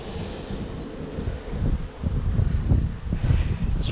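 Strong wind gusts buffet the microphone beside a beehive during a hive split, a loud low rumble that swells and eases in waves, with no talking.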